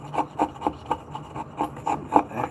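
The chisel edge of a mallet made from a 2x4 scrapes wood in about ten short, evenly spaced rasping strokes, close and alone.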